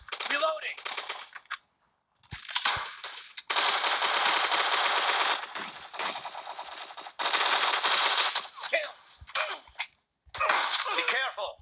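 Rapid automatic gunfire from a shooter video game fills most of the stretch, in long loud bursts broken by short gaps and a few single shots.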